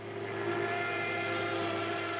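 Aircraft passing overhead in a film excerpt, a steady, droning hum that holds at an even, fairly loud level from start to finish with no voices.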